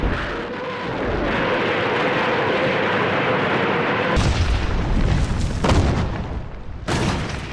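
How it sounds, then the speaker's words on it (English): Soviet Katyusha rocket launchers, the so-called Stalin's organs, pound enemy lines in a World War II barrage, a continuous loud rumble of booms and blasts with sharper explosive bursts toward the end. "the Soviets obliterate the enemy's lines, pounding them with the rocket launchers they call Stalin's organs"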